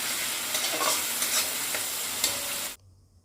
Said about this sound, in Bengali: এবার মশলাটা খুব সুন্দর ফ্রাই হয়ে গেছে।